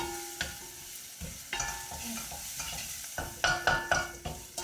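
Masala cooks over a slow fire, giving a soft, continuous sizzle punctuated by scraping stirs against the pan, fairly quiet and close with no talking.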